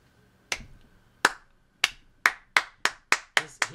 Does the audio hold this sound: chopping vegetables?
no